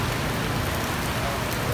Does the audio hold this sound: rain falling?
yes